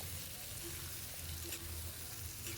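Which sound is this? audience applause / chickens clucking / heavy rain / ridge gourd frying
ridge gourd frying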